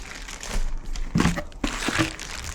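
A Rowenta machine is lifted out of crinkling plastic and cardboard packaging, with close, irregular rustling and crunching throughout.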